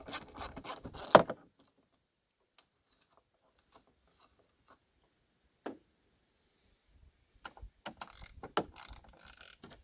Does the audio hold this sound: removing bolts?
yes